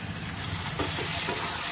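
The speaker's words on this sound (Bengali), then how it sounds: "আমি দিয়ে দিচ্ছি সিদ্ধ করে রাখা মটর" Boiled peas tipped into fried spice paste in a hot pan for a spicy pea and paneer curry, giving a continuous loud sizzle and frying hiss with stirring scrapes, close by and with no talking.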